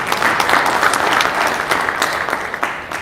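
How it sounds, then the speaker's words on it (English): Crowd at a diaspora convention grand opening in a hotel ballroom clapping for themselves, a warm, even wash of applause throughout, fairly close and steady. "Clap for yourselves."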